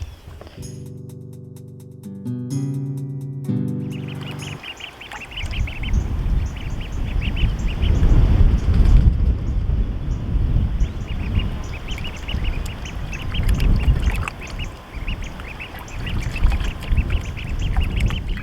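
A group of homestead ducklings quacks and peeps busily at close range, a dense, steady chatter that follows a few seconds of brief musical tones.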